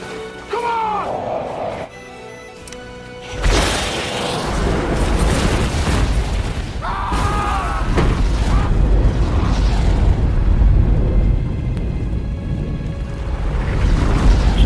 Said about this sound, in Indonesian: Lantas dihujamlah para pemberontak itu dengan bom yang membuat komandan dan pasukannya tewas dengan penuh rasa kepuasan